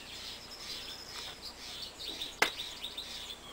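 Songbirds chirp outdoors in spring, thin high twittering calls layered over each other with one sharp, louder chirp close by amid the quieter distant chorus.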